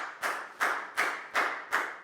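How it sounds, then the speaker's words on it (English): A Year 4 English class claps together for a classmate: five sharp, evenly spaced claps in a steady unison rhythm, close and moderately loud, with no talking. "Big round of applause for down,"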